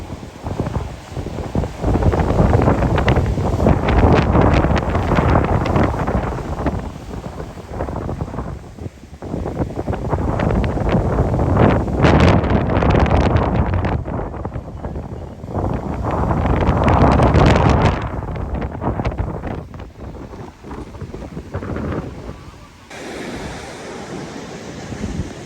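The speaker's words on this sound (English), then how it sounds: "a huge amount of quality in the waves that actually come in for the surfers that are here on Clearwater Beach" Surf crashes ashore at Clearwater Beach during Hurricane Helene, with strong wind gusting across the microphone. Loud breaking waves surge and recede in long swells while the wind roars throughout, and no one speaks.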